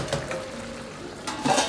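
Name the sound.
lid placed on wok of stewing duck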